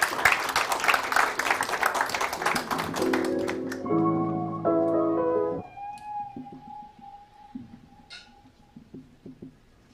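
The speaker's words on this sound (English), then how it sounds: "Round of applause for her." Applause from an audience at an evening report launch, brisk clapping for about three seconds that gives way to a short musical sting and faint room sounds.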